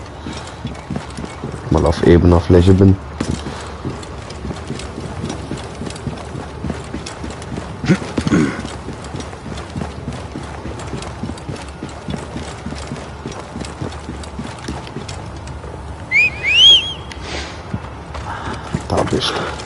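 Hoofbeats clip-clop from a horse in the video game Assassin's Creed Origins, steady and mid-distance under frequent German commentary from a male player, with brief louder bursts of game effects.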